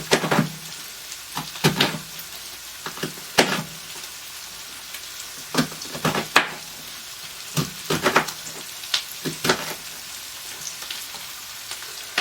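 Shredded cabbage frying and cooking down in a pot, a steady sizzling hiss broken by frequent sharp crackles and pops, close and fairly loud with no voices.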